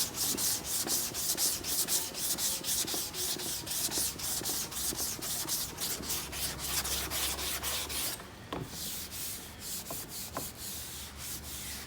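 Bumper filler is sanded by hand with 180 grit sandpaper in quick, rhythmic rasping strokes, close and fairly quiet, with a brief pause near the end before the scrubbing resumes.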